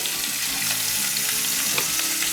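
Whole fish (snapper, grunt and blue runner) browning in a hot frying pan gives off a steady, close sizzle that holds even and dense throughout, with no talking.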